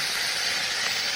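Hot sauce sizzling in a hot pie iron over a campfire, a steady close broadband hiss with no voices, one brief louder pop near the end.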